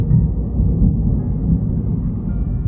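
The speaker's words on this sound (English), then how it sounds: "I'm not sure if the microphone's going to pick up the thunder that's happening right now." Thunder during an indoor storm makes a steady low rumble that fills the background with no talking over it.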